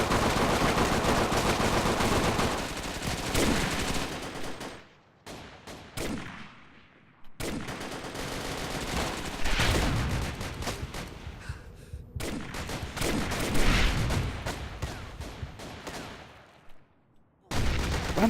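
Light machine gun and assault rifle fire in the Army Rage video game: dense, loud bursts of rapid automatic shots that run almost continuously, broken by brief quiet pauses around the middle and near the end.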